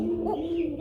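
Pigeon cooing from a caged pair of Danish Lahori pigeons, a low steady coo held through the whole short moment, close and moderately loud with no talk.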